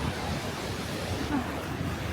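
Steady rushing spray of water crashing in the gorge at Devil's Bridge near Andermatt, Switzerland, a continuous broadband roar with wind buffeting the microphone and no clear voices.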